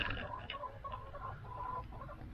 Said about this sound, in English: We also got the chickens out and moved.